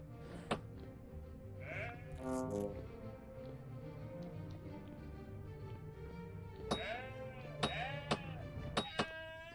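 Goats in the Vintage Story video game bleat in wavering cries, a couple of them early and several short bleats later, with sharp clinking ticks scattered among them and no talking.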